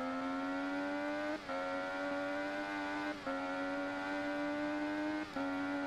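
An MV Agusta Rivale 800 motorcycle in a racing video game holds a loud, steady high-revving engine drone, broken by three brief dips as it shifts gears, with no talk over it.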